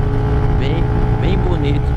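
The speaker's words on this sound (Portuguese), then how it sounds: "É uma moto 4 cilindros com um ronco" A loud, steady engine roar with a deep rumble, like a four-cylinder motorcycle running nearby, with faint voices mixed in.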